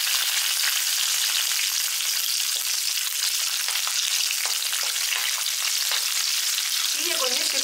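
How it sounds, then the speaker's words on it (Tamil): About eight garlic cloves fry in a spoonful of hot oil in a pan, giving a continuous, even, close sizzle with faint scraping of stirring near the end. "இப்போ நம்ம வெள்ளைப்பூடை வதக்கிக்கலாம்."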